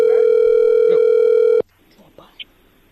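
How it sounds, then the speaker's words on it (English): Telephone dial tone after a call disconnects, a loud steady tone lasting about a second and a half that cuts off abruptly, followed by faint background sounds. "Yo, Face, we got disconnected, man."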